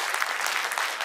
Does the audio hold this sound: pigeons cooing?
no